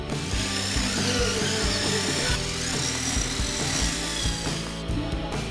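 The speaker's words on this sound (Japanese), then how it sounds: "穴のサイズを考えて竹切りを交換して、ドリルで穴を開けていきます。" A power drill bores holes into a 30 cm length of bamboo, whining loudly and continuously with shifting pitch and brief dips as the bit bites into the culm.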